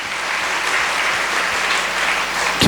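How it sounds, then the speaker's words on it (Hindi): Church congregation at a Sunday service in Hastings Chapel, Kolkata, clapping hands in thanks, a loud, sustained burst of dense applause filling the room without pause. "हम ताली बजा के प्रभु को धन्यवाद दे"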